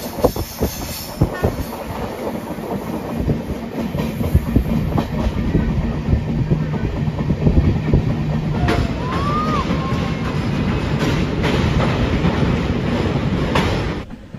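Train running on tracks, heard from a window seat on board as a loud, steady rumble with rhythmic clickety-clack and a brief squeal from the wheels.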